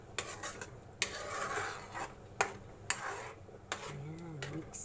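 Spaghetti being stirred in a pan with a utensil, sweetened with cinnamon, giving repeated scraping and clinking taps of metal on cookware at a steady pace, fairly close and moderately loud.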